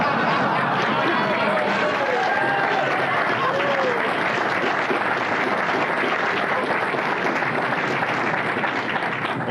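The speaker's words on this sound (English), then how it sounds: "the Atari crowd cheering." A large crowd at an Atari announcement cheers and applauds steadily, a dense continuous wash of clapping and voices at the same loud level throughout.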